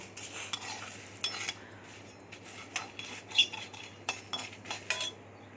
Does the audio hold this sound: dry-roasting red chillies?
yes